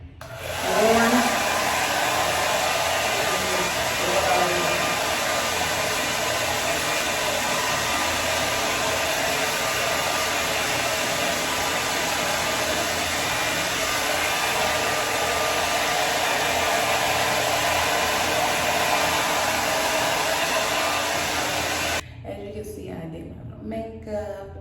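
A hair dryer on the warm setting blows steadily and loudly for about 22 seconds while drying natural hair styled in a twist-out, then cuts off, leaving faint voices and room sounds.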